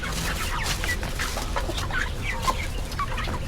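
Backyard chickens in Taiwan cluck and chatter in overlapping calls over steady wind-like outdoor noise, close and fairly loud throughout.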